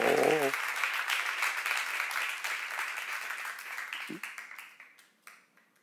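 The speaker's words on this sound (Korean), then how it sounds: "박수" Congregation applauding during a Korean church sermon, a steady wash of clapping after a brief spoken word, thinning to a few scattered claps at the end.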